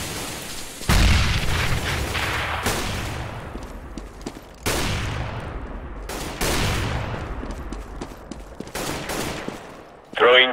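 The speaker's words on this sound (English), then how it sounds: "Grenade!" Grenade blast in Counter-Strike during a competitive match at DreamHack Open Cluj-Napoca 2015: a loud booming burst, followed by further heavy bangs and scattered gunfire across the round.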